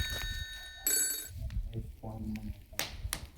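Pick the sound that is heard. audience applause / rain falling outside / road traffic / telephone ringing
telephone ringing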